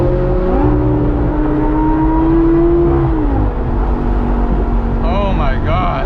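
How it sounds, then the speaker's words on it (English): A supercharged Lamborghini Gallardo Spyder engine drones loudly and steadily, then its pitch drops on a downshift, heard from inside the car with faint voices in the background. "Listen to this downshift."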